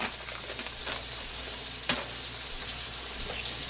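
A spoon stirs risotto with Parmesan in a pan, giving a soft, steady sizzle with a few faint scraping strokes, one slightly sharper knock near the middle, close and quiet.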